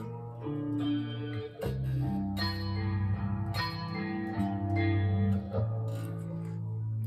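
Clean electric guitar intro played slowly, sustained chords ringing with light echo and effects, steady and fairly loud with no voices, a brief dip near the two-second mark.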